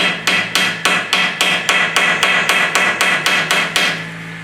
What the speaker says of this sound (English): I'm hitting it with a hammer